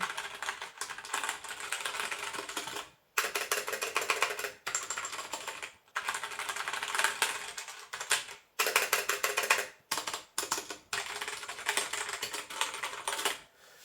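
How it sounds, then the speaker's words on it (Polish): Fast typing clacks on a Genesis Thor 303 mechanical keyboard with Outemu Brown switches in quick bursts, broken by several brief pauses, close and moderately quiet. "posłuchajcie jak pracują te przełączniki Brown"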